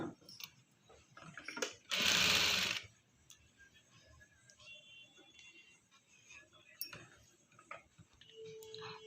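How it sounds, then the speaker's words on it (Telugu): A sewing machine top-stitches piping onto cloth with light, ticking stitches, broken by a brief loud rushing burst and a faint murmur of voice in a quiet room. "నేనైతే దీనిపై నుండి ఒక టాప్ స్టిచ్ అయితే వేస్తున్నాను"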